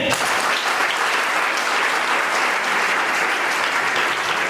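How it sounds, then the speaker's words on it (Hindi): Loud, sustained applause from an audience at a celebration event in Mughalsarai, steady dense clapping filling the whole stretch without pause. "एक बार जोरदार ताली मैडम के लिए।"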